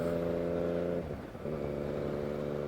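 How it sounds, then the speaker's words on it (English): Yamaha Tracer 900 motorcycle with an aftermarket exhaust and a three-cylinder crossplane engine, idling steadily and close by, with a brief dip in pitch midway before settling back to a steady drone. "This particular unit has an aftermarket exhaust."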